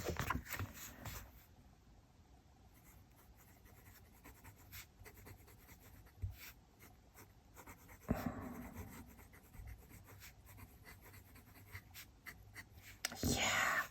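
A Good Blue Zoom fountain pen nib scratches across Tomoe River paper in short strokes and pauses, faint and close, with soft breathy voice sounds and a few louder handling noises.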